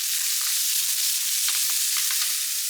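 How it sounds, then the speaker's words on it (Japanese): Komatsuna leaves and bean sprouts stir-fry in a hot pan, a steady close hiss of sizzling oil with faint scrapes and stirring clatter running through it. "小松菜の葉ともやしも加えて炒めたら"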